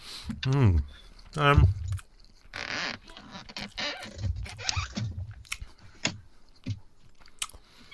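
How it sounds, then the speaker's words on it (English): Close-up chomping on food, with bursts of loud biting and crunching near the start followed by quieter, irregular chewing; some vocal sounds mix in. "I'll carry on chomping"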